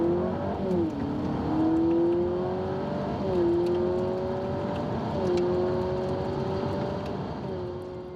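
A Honda Civic's CVT engine climbs in pitch, drops suddenly, and climbs again several times, like stepped gear changes during steady acceleration, heard from inside.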